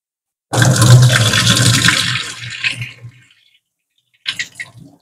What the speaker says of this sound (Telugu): మీరు ఈ నీళ్లు అక్కడ వంపేసి దీన్ని బోర్లించేయండి